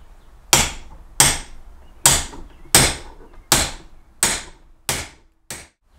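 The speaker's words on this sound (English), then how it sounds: "Tap it home." A hammer taps a trailer wheel bearing race into its hub with eight sharp, evenly spaced metallic knocks that fade slightly toward the end, alone in an otherwise quiet space.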